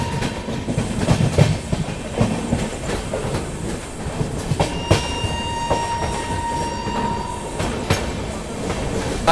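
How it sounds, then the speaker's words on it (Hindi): An Amrit Bharat Express train picks up speed after leaving Arrah junction in heavy rain, with a steady loud rumble of wheels and rail clatter throughout and a few faint squeals and tonal whines over the running noise. "आरा से निकलते ही ज़बरदस्त एक्सेलरेट किया है भाई अपनी ट्रेन ने"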